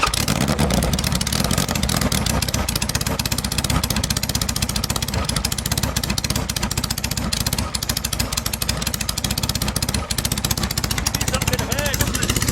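A car engine idling loudly after its ignition timing was set to 10 degrees, a harsh rapid throbbing rumble running steadily and close throughout.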